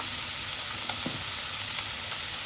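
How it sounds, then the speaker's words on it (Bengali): Data stalks and fish being fried in a pan, a steady close hiss of hot oil with a few faint crackles and no voices. "ডাটা মাছটা ভালো করে ভেজে দিতে হবে"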